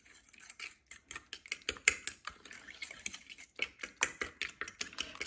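Egg being whisked with salt and garlic using a fork, giving quiet, rapid rhythmic clinks and taps against a bowl, steady and close throughout.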